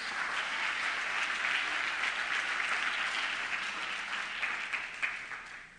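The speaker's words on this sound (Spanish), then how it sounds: "Alguien diga amén y aplauda al Señor con fuerza." A church congregation claps loudly and steadily during a sermon, a dense continuous wash of applause that fades slightly toward the end with no talking over it.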